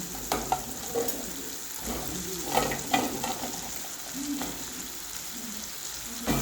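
Pieces of fried chicken land in a hot pan and sizzle while being stirred, a crackling fry broken by several scraping, clattering utensil strokes.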